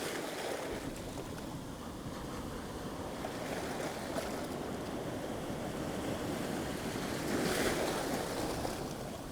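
Steady wash of surf against a rocky shore at Dunstanburgh Castle with broadband roar, swelling louder near the end, with some wind buffeting; no voices.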